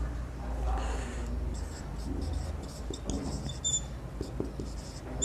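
Chalk or marker squeaks and taps in short strokes on a board during a class 8 maths lesson on quadrilaterals, faint beneath a teacher talking.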